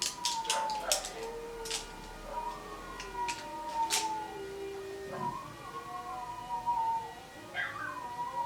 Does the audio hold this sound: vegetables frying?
no